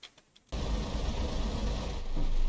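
A BR Class 101 diesel engine in Train Sim World starts with a few faint clicks, then settles into a steady, rumbling idle that is close and continuous.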